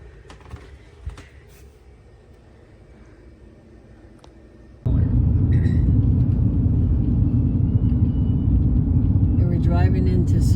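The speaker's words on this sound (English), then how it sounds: "We're driving into Sedona." A car drives along a road into Sedona, Arizona. Some faint clicks sit over a quiet cabin at first, then a loud, steady road rumble and engine drone take over about halfway through and continue to the end.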